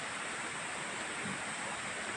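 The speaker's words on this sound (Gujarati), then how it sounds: "આ જે નદીનો અવાજ સંભળાય છે" A river flowing through dense Gir forest near Girnar mountain gives a steady, continuous broadband rush of water, loud and unbroken throughout with no voices.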